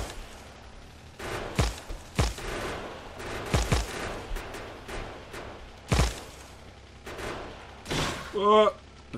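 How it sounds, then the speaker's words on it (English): Gun turrets in the Factorio video game fire in short scattered bursts of rapid shots, sharp and moderately loud, separated by quieter gaps, ending with a tonal game chime. "Oh, there's a gun turret there."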